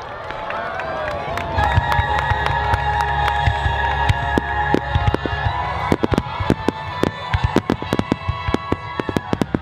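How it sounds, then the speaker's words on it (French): Fireworks display at Edogawa, Japan, with repeated sharp bursts and crackling pops going off irregularly over a steady crowd murmur, growing denser and louder toward the end. "je vais vous mettre quelques images du feu d'artifice de Edogawa"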